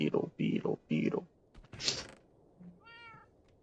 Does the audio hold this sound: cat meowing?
yes